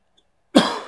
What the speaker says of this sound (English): Hopefully the mic won't pick up my coughs too much.